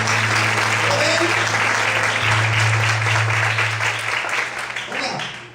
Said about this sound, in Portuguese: As boas palmas a Deus